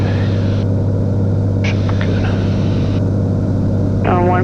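Small aircraft engine during takeoff on runway 29 at Hanscom, a loud steady droning rumble heard from inside the cockpit, with brief radio chirps and tones breaking in over the drone.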